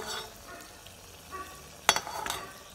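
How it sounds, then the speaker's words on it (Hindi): Anarsa, crisp rice-flour Diwali sweets, fry in hot oil with a faint, low sizzle as oil is ladled over them, followed by a couple of sharp utensil scrapes near the end. "हमें उसके ऊपर तेल डालते जाना चाहिए और उसे तलना चाहिए"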